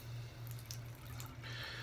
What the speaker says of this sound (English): going to pour the rest of the bleach water out